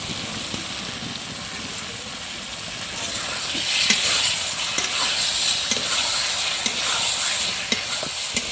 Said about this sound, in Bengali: ডিম কষানো হয়ে গেছে